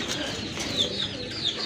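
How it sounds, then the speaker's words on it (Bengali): A pair of Giribaj pigeons cooing at a pigeon sale, soft repeated coos over a busy background hum with faint wing rustles. "খুবই সুন্দর এক জোড়া কবুতর"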